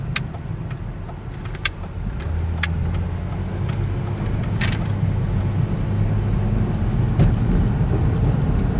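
A 1999 Ford Windstar van drives along after a repair to a fault that used to send it into limp mode. A steady low engine and road rumble fills the cabin, with a few faint jingles and ticks over it.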